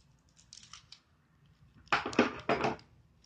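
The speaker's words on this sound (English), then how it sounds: "I'm just gonna use scissors." Scissors cutting, probably snipping open a packet while making slime: a few quiet, crisp snips close by, clustered together after a near-silent stretch.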